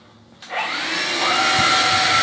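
A vacuum cleaner switches on after a brief quiet moment and runs steadily with a loud, broadband whine that builds slightly, close by in a home kitchen, with no voices.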